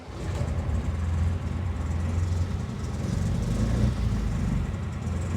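A car engine and exhaust run close by with a steady, heavy rumble, held at a fairly even level without a clear climb in pitch.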